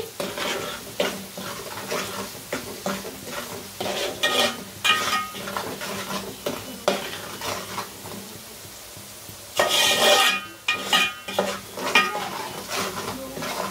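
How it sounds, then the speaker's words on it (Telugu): Fish curry ingredients stirred in a pot, a spoon scraping and clinking against the metal in repeated strokes over a steady background sizzle, with a louder burst of scraping near the end. "ఇవన్నీ ఒకసారి కలిసే వరకు కలుపుకుందామండి"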